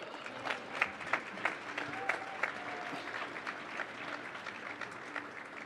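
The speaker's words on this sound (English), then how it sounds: "Round of applause for Oscar De La Hoya" Applause for boxer Oscar De La Hoya at a fight press conference, a moderate, sustained patter of clapping from a crowd with scattered louder claps throughout, a voice briefly audible within it.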